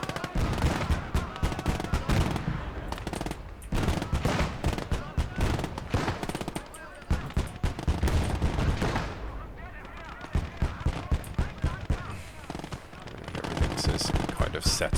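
Flak guns and machine guns in Call to Arms: Gates of Hell firing in dense, rapid bursts of gunfire with heavy booming shots, loud and continuous battle noise under a voice talking.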